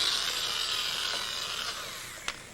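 A drill fitted with a 5/8-inch spade bit bores steadily with a high, hissing whir, close by, easing off slightly before a sharp click near the end.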